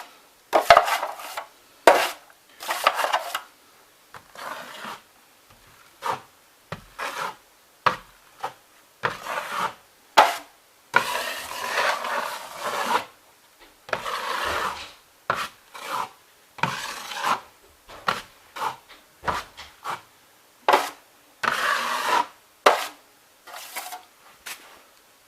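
A 12-inch drywall knife scrapes joint compound across a wall patch in repeated rasping strokes, each pass a short gritty swipe with brief pauses between, close and fairly loud.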